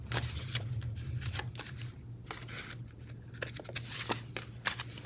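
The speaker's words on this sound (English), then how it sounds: "You can use your scissors or your trimmer." Paper is cut with scissors for a layered belly band tag, making a series of quick, close snips and rustles over a steady low hum.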